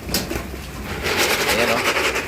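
Pet pigeons cooing in a loft, soft repeated coos under a steady mix of background noise, with someone talking nearby.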